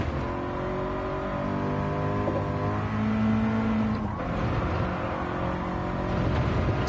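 Race car engine in a racing video game holding revs in fifth gear without upshifting, a steady loud drone with a sustained tonal whine running throughout.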